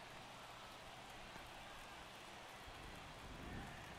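Simulated rain in a baseball video game, a faint, steady hiss of falling drops with no other sounds standing out.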